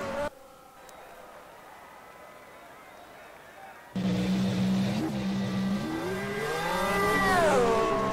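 Formula 1 race car engine in an F1 video game during Italian qualifying: a quiet lull, then an abrupt loud high-pitched engine whine that holds and rises in pitch as the car drives out.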